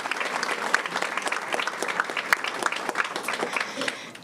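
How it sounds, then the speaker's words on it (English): An audience at a board of education meeting applauds mentors with dense, steady clapping throughout, fairly loud and close, fading slightly at the very end. "How about a round of applause for our gentlemen and our"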